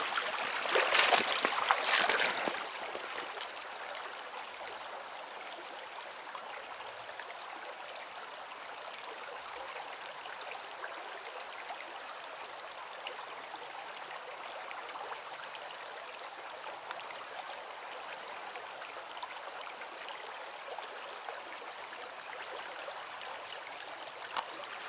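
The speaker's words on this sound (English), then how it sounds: "So this is called Big Cedar Creek." Big Cedar Creek in the Ouachita Mountains flows on as a steady, gentle rush of water, with a brief louder splash or rustle at the very start before the soft, even babble carries on alone.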